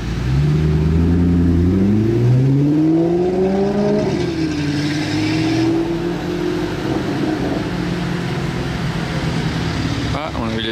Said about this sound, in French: Ça c'est une autre voiture qui sonne joliment et de la même couleur.